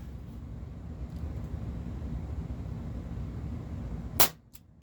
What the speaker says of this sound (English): This may be one of my loudest pistols that I even own. Just it has a really loud pop.